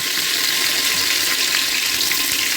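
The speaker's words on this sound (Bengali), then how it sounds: "কাজু কিশমিশগুলোকে আমি হালকা একটু ভেজে নেব, ফ্রাই করে নেব।" Cashews and raisins fry in hot ghee and oil with a steady, close, hissing sizzle that holds even throughout, with no voices.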